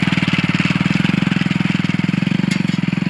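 A motorcycle engine runs loud and close with a steady, rapid pulsing throb as it rides along a sandy beach path.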